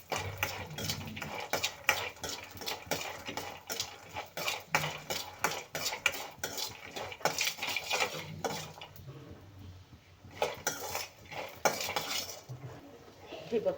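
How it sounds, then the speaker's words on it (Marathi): Peanuts roasting in a little oil in a pan, a steady run of rattling, clicking and scraping as they are stirred and tossed against the metal, continuous and close with no talking. "थोडंसं तेल घातलं आहे त्याच्यावर आपल्याला हे शेंगदाणे छान भाजून घ्यायचे आहेत"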